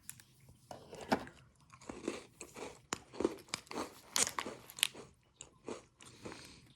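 A crunchy Lotus Biscoff cookie being bitten and chewed up close, a series of sharp crisp crunches at irregular intervals with softer mastication between, no talking.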